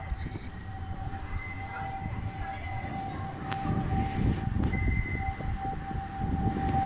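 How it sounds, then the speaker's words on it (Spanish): A tram rumbles past in Zaragoza, Spain, with a low, building roar and a steady whine, the noise swelling toward the end. "vemos el tranvía pasar"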